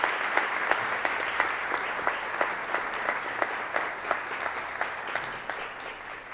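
Steady applause from a parish audience for a priest, Padre Jonas, at a church event, with sharp individual claps standing out over a dense, moderately distant wash of clapping that carries on without pause.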